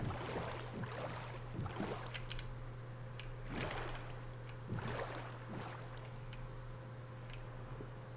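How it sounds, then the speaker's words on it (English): A faint, steady video game boat sound with a low hum and rhythmic sloshing, water-like swells recurring every second or so, no talking. "I swear there is a boat sound"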